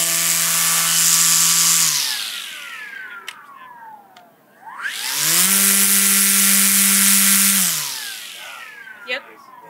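A Ryobi string trimmer motor whines up to a high pitch, holds, winds down, then revs up again, loud and close with no talking.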